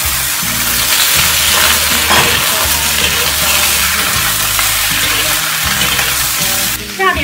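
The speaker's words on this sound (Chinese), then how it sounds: "加入姜蒜炒香" Ginger, garlic and beef brisket stir-fried in a wok for a Cantonese braised radish and brisket dish, a loud continuous sizzle with rhythmic low scraping strokes of the spatula.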